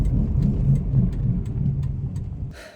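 A car with badly worn wheel bearings drives along, giving a steady low droning rumble with a rhythmic growl and faint ticking, ending in a brief hiss.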